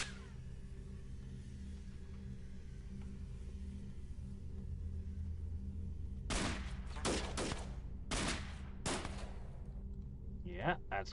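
Bursts of SMG and rifle gunfire from The Xcom Files strategy game: several sharp volleys crackle in quick clusters over a low steady background hum, then a short pause before a final small burst.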